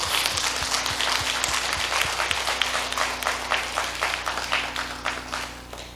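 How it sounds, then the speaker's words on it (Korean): Congregation in a Korean church service applauds together, a steady dense clapping that fills the room for several seconds at fairly close range, with a low background hum and no one speaking over it. "박수 한번 쳐줘봐요"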